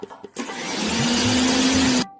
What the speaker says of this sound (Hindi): मिक्सी चलाओ